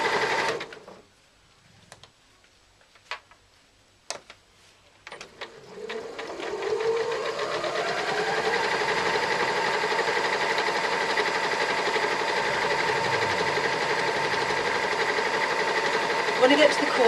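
A sewing machine stitches around the sides of a laptop bag, starting after a few quiet seconds with scattered clicks, then running in one long, steady, close hum through to the end.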